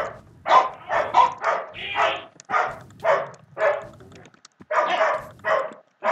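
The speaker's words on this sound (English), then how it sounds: "Shut up, dogs!" Dogs barking in quick bursts, close and loud, with repeated sharp barks and yips in an irregular rhythm and brief gaps between volleys, no talking over them.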